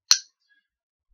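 Rhythm bones struck once with a simple forward whip, giving a single sharp, bright click that decays quickly in a quiet room, with nothing else following it.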